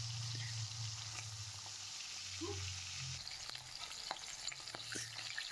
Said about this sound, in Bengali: তো আমি এখানে সব মাছের টুকরোগুলো আস্তে আস্তে ছেড়ে দিচ্ছি।